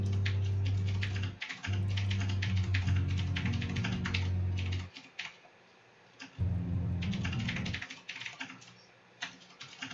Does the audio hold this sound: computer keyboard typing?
yes